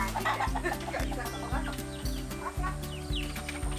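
Chickens cluck near a coop on a garden homestead, several birds calling in overlapping bursts over a steady, fairly loud background with no talking.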